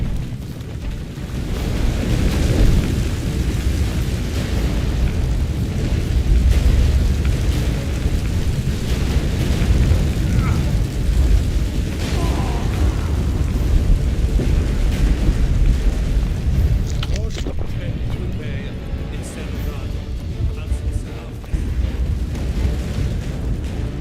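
A deep, continuous earthquake rumble roars loud and heavy in the video game The Witcher 3, with crackling debris layered over the low tremor and no letup or talk.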